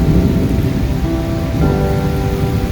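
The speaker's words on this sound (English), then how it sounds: "This is a big rain though too." Heavy rain at an off-grid home, a loud dense roar of downpour on surfaces that stays constant throughout, with a low rumbling underneath.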